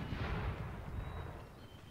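Heavy artillery booms in an American Civil War video game, a dense, rumbling barrage of low blasts fading slightly over a couple of seconds, loud and continuous with no talking.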